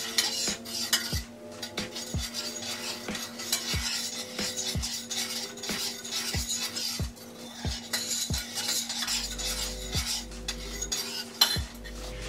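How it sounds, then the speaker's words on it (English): A metal utensil stirs melting sugar in a pot for a sour mix, with steady repeated scraping and clinking against the pot under a low background hum, close and moderately loud with no talking. "You wanna make sure that you're continuously stirring the pot because you don't want the sugar to get hard"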